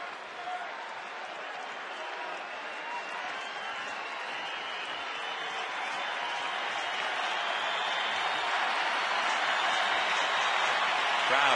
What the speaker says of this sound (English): Crowd really into it now.